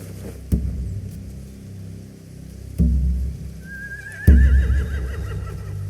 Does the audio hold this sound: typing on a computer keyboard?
no